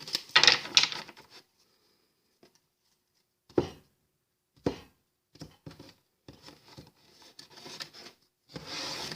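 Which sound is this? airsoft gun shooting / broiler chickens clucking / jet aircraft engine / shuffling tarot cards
shuffling tarot cards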